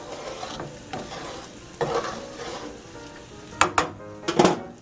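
Garlic chicken pasta sauce liquid simmering and reducing in a pan, a soft continuous sizzle and bubble with occasional stirring scrapes and clinks of a utensil against the pan, close and fairly loud toward the end.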